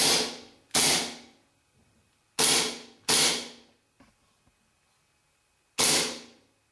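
A WE Walther P38 gas blowback airsoft pistol fires five sharp, close gas cracks at uneven intervals, each with a short hissing decay, and light mechanical clicks of the slide and hammer fall between the shots.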